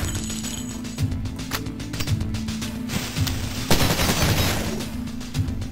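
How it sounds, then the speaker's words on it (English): Machine gun firing in the retro shooter video game Cultic, a rapid sustained burst of close, loud shots with metallic clinks of spent casings and a heavier blast partway through. "using the machine gun"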